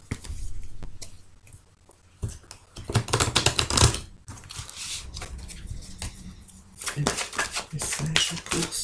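Tarot cards being shuffled by hand in rapid riffling bursts and soft slaps, close and fairly loud, while a person talks intermittently.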